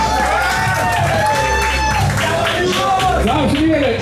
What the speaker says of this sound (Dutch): Dan ook een groot applaus voor Venson.